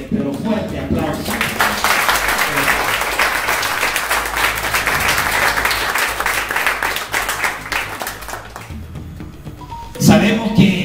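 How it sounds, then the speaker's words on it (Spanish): Sustained applause from a church audience, dense clapping filling the whole stretch, ending with a brief louder burst at the close. "Nuevamente un fuerte, pero fuerte aplauso."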